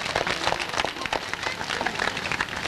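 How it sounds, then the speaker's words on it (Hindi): An audience at a school function claps to welcome teachers and guests taking their seats, a dense continuous patter of many hands filling the room at an even level throughout. "तालियां बजाकर उनका स्वागत करें।"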